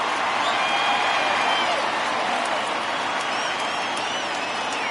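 A baseball video game stadium crowd roars in a steady, dense wash of cheering and applause for a full-count pitch, loud and continuous without letup.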